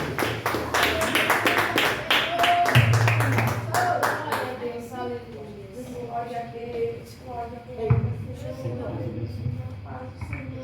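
A church congregation claps in fast rhythmic unison for the pastor, loud for about four seconds, then fades under a voice speaking and singing.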